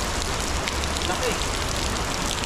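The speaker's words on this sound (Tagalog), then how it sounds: "Grabe yung patak ng ulan, no?" Heavy rain pours steadily during a fishing trip along a rough route, making a dense, constant hiss that fills the whole clip without a break.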